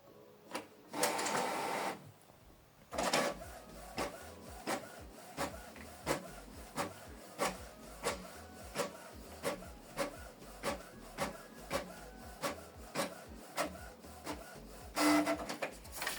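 A Canon Pixma TS6550i inkjet prints a document: a brief whir, then a regular series of clicking, rubbing feed strokes roughly every second, close and moderately loud, ending in another whir as the page ejects; no talk.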